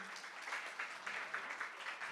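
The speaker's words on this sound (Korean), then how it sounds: "우리 어머님들 위해서 우리 박수 한 번만 좀 쳐주십시오." A church congregation at a Friday worship service claps in honour of the mothers, a faint, distant patter of many hands coming in soft rhythmic swells.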